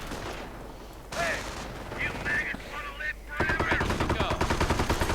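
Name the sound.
machine gun and gunfire in a strategy video game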